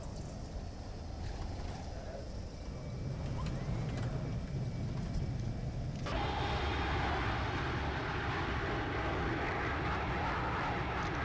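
An Embraer jet lands in the X-Plane 11 flight simulator, heard as a continuous low engine rumble and wind roar. The roar swells and thickens midway, then holds steady and loud to the end.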